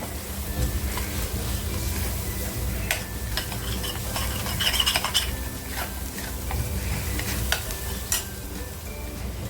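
Spice masala of turmeric and red chilli powder fries in a pan while a spoon stirs it, with scraping and clinking strokes repeating over a steady low sizzle.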